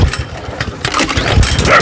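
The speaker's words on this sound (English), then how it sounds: "Let's just start mowing." A lawn mower engine roars to life for scalping a lawn, sputtering and surging close by in rough, loud pulses over a couple of seconds.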